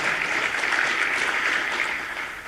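Brief round of applause at a mayor's luncheon, a dense, steady patter of clapping from a seated crowd that tapers slightly at the end.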